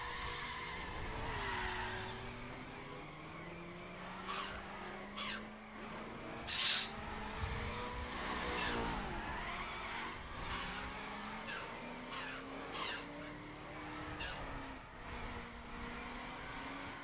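A car drifts in a racing video game, with a long, wavering tire squeal over a steady engine drone that continues without a break throughout.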